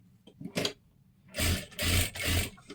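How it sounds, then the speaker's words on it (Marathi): Sewing machine running double stitching on a blouse's matka neck, with three loud sustained bursts of motor-driven stitching after a few soft handling sounds, close and alone. "आणि डबल शिलाई मारून घ्यायची आहे"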